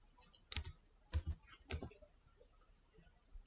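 Keys clicking on a computer keyboard while CMD is typed into the Start search box: a few quiet, separate taps in short bursts, close and alone.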